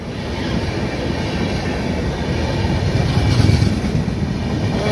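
A Southern Railway coach train rolls past on the Vijayawada–Chennai mainline near Kolakaluru, a steady loud rumble of wheels on track that builds slightly toward the end, with no voices.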